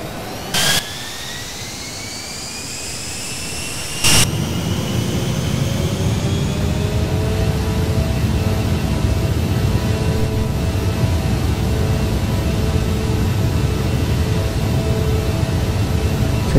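Douglas DC-8 jet engines roar steadily at takeoff thrust in a flight simulator game, with rising turbine whines layered over a dense broadband rumble. Two sharp clicks punctuate the start, and the sound holds loud and continuous.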